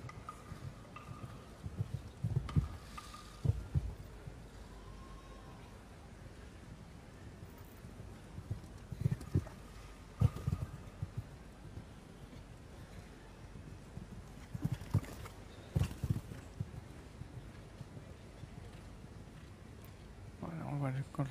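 Show-jumping horse at the Aix-la-Chapelle Grand Prix, its hooves thudding in short rhythmic bursts of galloping and landings, moderately close, spread over a steady crowd and arena murmur.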